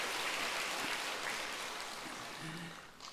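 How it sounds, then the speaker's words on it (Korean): A church congregation claps together in broad, steady applause that fills the room, fading slightly toward the end. "박수 한번 쳐주세요."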